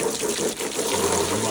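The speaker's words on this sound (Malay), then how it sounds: "lepas tu just taruh je air." Water pours steadily into a bucket, a continuous splashing rush with no voices.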